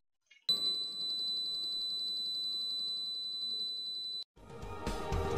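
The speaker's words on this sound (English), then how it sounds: "What you're hearing now is the 4 kHz tone from the receiver telling us that we have alignment." A steady high-pitched 4 kHz alignment tone from a wireless infrared photocell beam receiver for a gate motor sounds continuously for several seconds, then cuts off abruptly and gives way to rustling handling noise.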